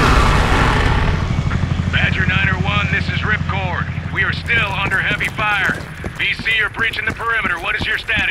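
A helicopter in Call of Duty Black Ops Cold War, its rotor churning as a loud rhythmic thumping from the start that eases off, with voices speaking over much of it.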